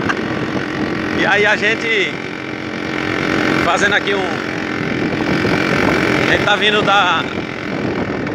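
A Yamaha RD135 two-stroke motorcycle runs steadily while being ridden, its engine droning continuously under wind noise as someone talks over it.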